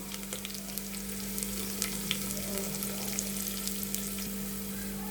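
Cumin, curry leaves and onion frying in hot oil give a steady close sizzle with faint crackles and occasional stirring scrapes, continuous throughout with no voices.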